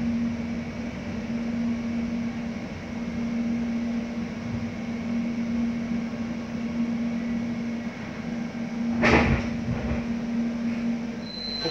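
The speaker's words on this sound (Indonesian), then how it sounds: "Yuk, mari kita nikmati naik kereta bandara ini." Soekarno-Hatta airport rail link train heard from inside the carriage: a steady, quiet rumble with a constant motor hum and a brief louder clatter near the end.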